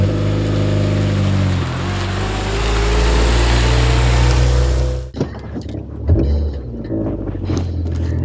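A Honda Civic Si FG4 engine under way while driving, a loud steady drone of engine and road roar that shifts in pitch, then drops abruptly to quieter cabin and road noise with a few knocks.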